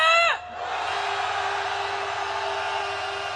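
A crowd at a candlelight protest march raises a sustained collective roar of shouting. It starts right after a short, loud voice and holds at a steady, broad level with a constant low hum beneath it.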